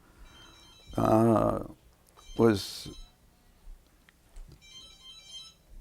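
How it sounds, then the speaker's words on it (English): A telephone rings during a conversation, with two clear tonal ringing bursts close together followed by a faint high electronic tone, while someone speaks quietly in between. "oh, you've got a phone call"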